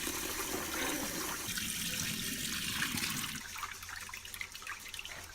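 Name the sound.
washing sweet rice in water for makgeolli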